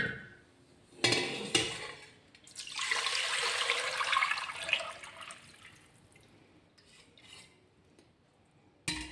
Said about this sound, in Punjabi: ਲਓ ਜੀ ਹੁਣ ਇਹ ਲੱਸੀ ਨੂੰ ਨਾ ਆਪਾਂ ਇੱਕ ਵੱਡੇ ਟੁਸਕੇ 'ਚ ਪਾ ਦਿੰਨੇ ਆ